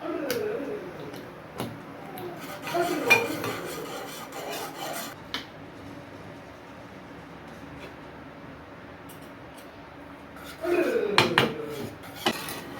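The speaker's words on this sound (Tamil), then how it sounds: "நல்லா இப்படி கிண்டி விட்டுட்டே இருக்கிறேன்" Sago pongal being stirred in a pot, producing close scraping and rubbing strokes with light metallic clinks in scattered bursts, quieter in the middle and busier near the end, with no talk.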